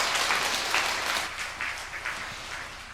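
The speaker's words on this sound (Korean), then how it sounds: "여러분, 하나님께 최고의 박수로 하나님께 드리겠습니다" Congregation applauding during a Sunday church service, a dense sustained wash of clapping that holds steady for the full three seconds without speech over it.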